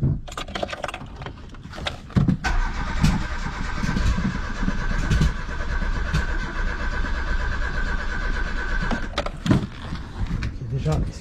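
A Peugeot 309 GR, laid up for 20 years, cranks and fires, then settles into a steady, loud idle that runs for several seconds; voices are heard over it near the start and end.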